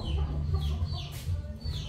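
A rooster clucks and squawks nearby in a series of short, agitated calls over a low background rumble.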